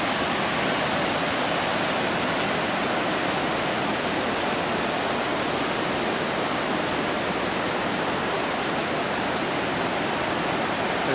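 Iguazu Falls at the Devil's Throat, seen from the lower Brazilian side, sends up a continuous, dense roar of falling water, loud and unbroken for the whole span with no voices.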